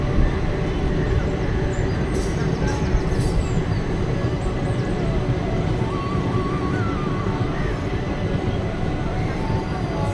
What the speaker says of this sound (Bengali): আমাদের সেকেন্ড বড় স্টেশন ঢুকছে এখন কাটোয়া